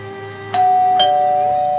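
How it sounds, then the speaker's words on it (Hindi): Doorbell at a flat's door giving a clear two-tone ding-dong chime, loud and close, with the second tone ringing on and fading. "अचानक एक फ्लैट का डोरबेल किसी ने बजाया।"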